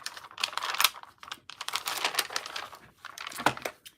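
Scissors cutting paper for a December Daily scrapbook page, a series of close, crisp snips and crinkly rustles in short bursts with brief pauses between, no talking.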